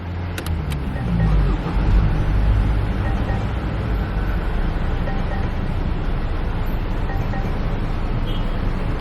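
A 2019 Range Rover Sport SD4 diesel idles steadily and fairly quietly at close range, its low, even rumble continuing throughout with a few brief clicks at the very start.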